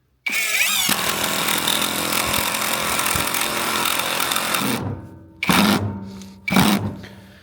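A Dnipro-M impact wrench drives a self-tapping screw, giving one long loud burst of whirring, rattling impacts for several seconds, then two short follow-up bursts close by.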